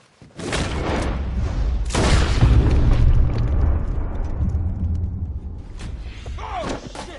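A gunshot in a PS4 video game lands as loud booming blasts with long, rumbling decay, followed by quieter game sounds, with no talking.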